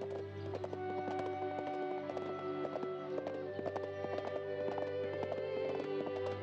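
A ridden horse's hooves clip-clop in a quick, steady trotting rhythm with many crisp hoof strikes, close by and fairly faint, over a low constant hum and a sustained tonal background.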